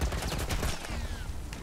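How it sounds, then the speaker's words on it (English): Rapid military turret gunfire in The Last of Us erupts as a dense, continuous burst of shots lasting under two seconds, loud and close with no clear gaps between rounds. "Some kind of military turret"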